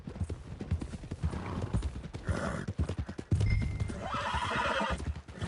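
Hooves clip-clop steadily on a dirt road near a stable while a horse neighs and whinnies, set in a Western open-world video game on PS4; brief game dialogue sits under the hoofbeats.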